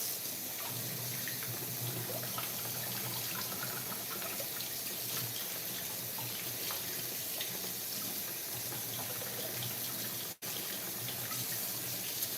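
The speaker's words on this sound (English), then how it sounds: "I'm gonna rinse off this lovely cauliflower." Tap water running steadily over cauliflower as it is rinsed in a sink, a continuous close splashing hiss with a brief dip near the end and no talk.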